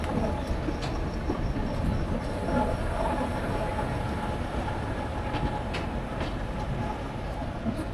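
Steady rumble of a train pulling out of Prayagraj railway station, continuous broadband rolling noise with faint wheel clicks and brief higher squeals, close and even in level throughout, no talk.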